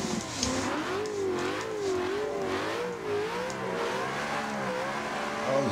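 A race car engine in the Assetto Corsa racing game revs continuously, its pitch climbing and falling in smooth waves for several seconds, loud and close with no voices over it.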